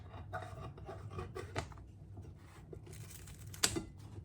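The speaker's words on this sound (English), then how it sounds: "the best way to cut pizza is with scissors" Faint crunchy snips and scrapes, scissors cutting through crispy Crosta and Mollica pomodoro pizza in short irregular bursts, with one sharper crack near the end.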